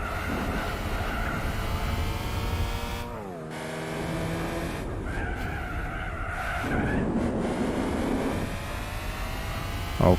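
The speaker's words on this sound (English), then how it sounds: ".32 seconds of drift" Game-car tyres screech and skid through a long drift in Gran Turismo 4, loud and sustained over a droning engine, with the pitch sliding and shifting as the slide changes.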